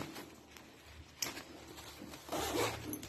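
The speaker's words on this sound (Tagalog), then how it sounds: "Pupunta tayo sa loob. Sa unang zipper niya." A zipper on a The North Face backpack is pulled open in short, scratchy bursts, with a louder, longer rasping run near the end, close up and with no talking.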